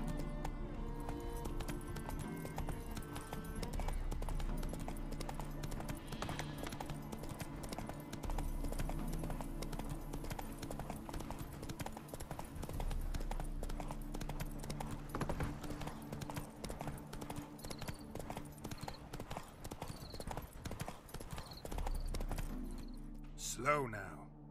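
Hooves of the horse Roach clip-clop in a steady walking rhythm in The Witcher 3: Hearts of Stone, continuous and close, under spoken dialogue.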